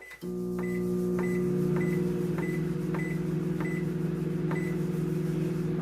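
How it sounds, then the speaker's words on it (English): A microwave oven runs steadily while reheating hash browns, its even hum carrying through with a soft ticking roughly every half second. No one speaks. "we're going to microwave for 4 minutes"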